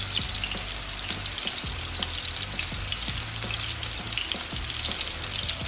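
Food fries in oil in a slightly uneven pan at a home stove, a steady, dense crackling sizzle with faint utensil taps, close and continuous without talk.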